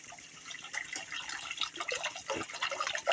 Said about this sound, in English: we're just going to put some water in here because we want to boil that Veggie Craft pasta